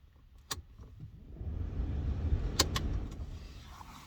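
Car interior at night while driving, a low engine and road rumble swelling in the middle with a few sharp clicks and ticks, no talking.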